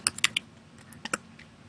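Computer keyboard shortcut keys pressed during brush-tool drawing software work, heard as a few sharp, close clicks in quick bursts with short quiet gaps, no talking.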